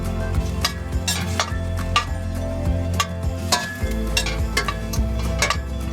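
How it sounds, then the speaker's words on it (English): Corn kernels fry in olive oil in a pan over medium-high to high heat, giving a steady close sizzle with scraping stirs and light clinks of a utensil against the pan, and no talking. "We're just going to cook that in the olive oil until it kind of gets a roasted corn kind of smell."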